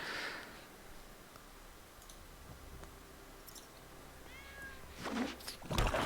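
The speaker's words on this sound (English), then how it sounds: "I heard a cat." A house cat meows briefly and faintly a couple of times in a quiet room, with light clicking nearby and no talk.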